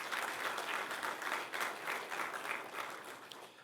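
An audience at an evening theology school event breaks into applause, a dense wash of many hands clapping at moderate distance, fairly soft, lasting a few seconds.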